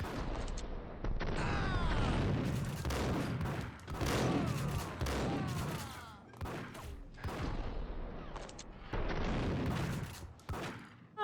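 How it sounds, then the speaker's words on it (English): Rapid gunfire from a Max Payne shootout, with dense bursts of shots and booming impacts in loud clusters separated by brief lulls. "I don't want to shoot her, but she's shooting at me."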